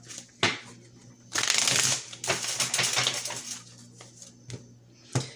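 Close-up card shuffling: a sharp tap, then two extended riffling bursts, followed by a few lighter taps as the deck is squared.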